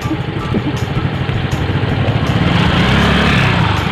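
Yamaha Mio Gear automatic motorcycle being ridden, its engine giving a steady low drone that grows slightly louder and fuller toward the end, with no talk over it.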